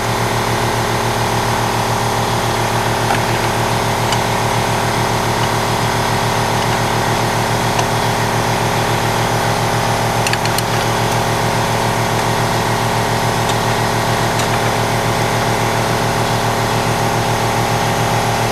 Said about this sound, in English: of course the air compressor turns on